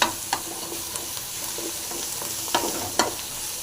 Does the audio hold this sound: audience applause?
no